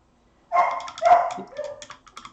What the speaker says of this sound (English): And ignore my PUPPY in the background.